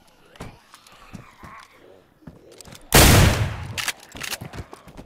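A loud burst of rapid gunfire erupts midway through a DayZ match on PS5, preceded and followed by scattered single shots and clicks, with a player's voice talking faintly in the background.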